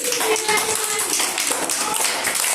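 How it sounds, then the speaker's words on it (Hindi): Children clap for classmates during a school library activity, a dense, continuous patter of many small hands filling the room at a fairly loud level. "ताली बजाइए इनकी।"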